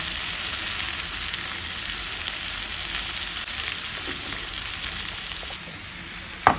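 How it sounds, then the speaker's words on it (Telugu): Chopped cabbage fries in a pan with a steady, close sizzle throughout while it is stirred, ending in one brief sharp knock of the utensil. "ఇలా మొత్తం అయితే కలిపేసుకోవాలన్నమాట"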